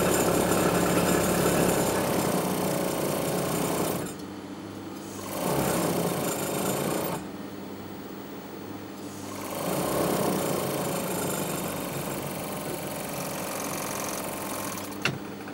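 An overlocker stitches a trouser inside leg seam in close, quiet bursts of rapid mechanical whirring, running for a few seconds at a time with short pauses between runs.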